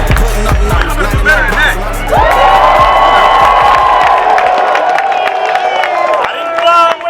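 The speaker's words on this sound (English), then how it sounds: "Give yourselves another round of applause." Crowd at a reparations rally cheering and clapping, a loud sustained wave of applause and shouts that swells after a couple of seconds and holds, with a voice speaking over it.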